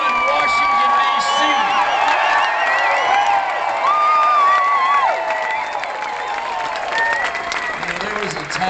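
At a Tea Party political rally in Fort Worth, a large crowd cheers and claps loudly, with whoops and shouts rising over sustained applause that eases slightly toward the end.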